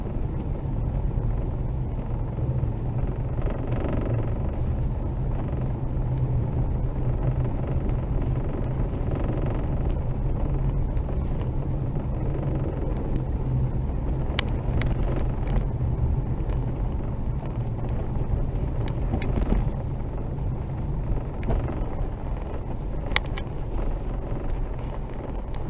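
A car drives toward a Bigfoot sighting location at a frozen lake popular for ice fishing, giving a steady low rumble of engine and road noise with wind buffeting throughout, no voices.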